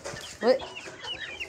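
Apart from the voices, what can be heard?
hens clucking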